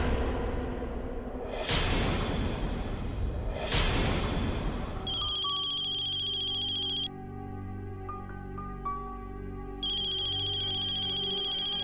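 A telephone ringtone sounds in a Bhojpuri TV drama scene. Two loud swooshing whooshes come first, then a repeating electronic ring tone plays steadily to the end.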